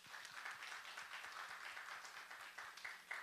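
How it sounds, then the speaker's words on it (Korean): A church congregation at a Sunday service claps for the church's volunteers, a faint, steady patter of many hands filling the sanctuary. "박수 한번 부탁드립니다"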